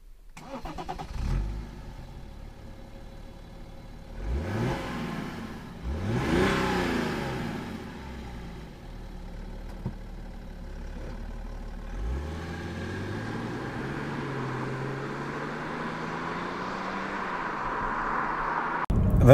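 A 2009 BMW E92 335d coupé diesel engine cranks and fires up, then revs briefly before settling into a steady idle with a faint diesel clatter, heard fairly close and alone.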